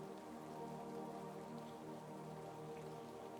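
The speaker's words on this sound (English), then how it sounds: "The rain had not stopped." Soft, steady rain falls continuously at a low level, blended with a faint droning tonal backdrop and no voices.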